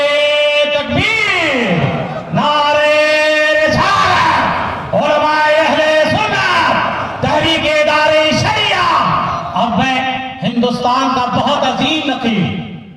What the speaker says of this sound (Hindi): एक मरतबा दोनों हाथ उठाकर नारे तकबीर और रिसालत के नारे लगाएं।